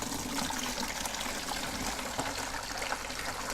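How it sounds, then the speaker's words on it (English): Broth poured from a pot through a strainer, a continuous steady splashing and trickling of liquid heard close up and alone. "So then you just bring it over here and pour the liquid through."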